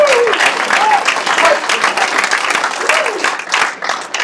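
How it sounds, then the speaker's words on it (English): Crowd at a real estate auction breaks into steady applause after the final lot is sold, dense clapping sustained throughout with a few voices calling out over it. "And a big round of applause."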